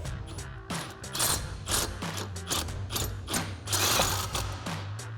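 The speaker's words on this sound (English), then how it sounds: "grab our key and our 21 mil socket and tighten these back up" A ratchet with a 21 mm socket clicks steadily while tightening wheel lug nuts on a 2010–2024 Camaro fitted with hubcentric wheel spacers, with close, busy mechanical clatter throughout.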